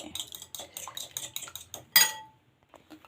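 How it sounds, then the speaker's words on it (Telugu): Eggs beaten hard in a mixing bowl, a fast run of rhythmic clinking whisk strokes against the bowl, close up, ending in one louder clank before quieter taps. "ఎగ్స్ వేసుకున్నాను నేను ఇప్పుడు వీటిని బాగా బీట్ చేసుకుందాము"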